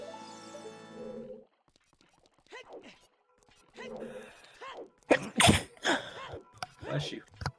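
A single sharp sneeze bursts out partway through, close and loud, during a live Ocarina of Time randomizer race commentary, with people talking before and after it.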